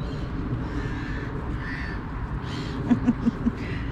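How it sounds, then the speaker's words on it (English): Several crows caw near a shopping center on a foggy morning with gulls about, four short calls coming late in quick succession over steady outdoor background noise. "There's a couple of crows."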